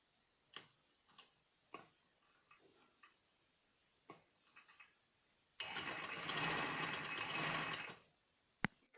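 An electric sewing machine stitches the inner side of a skirt frill in one loud, steady run of about two and a half seconds, after scattered soft ticks and clicks of handling fabric, ending with a sharp click.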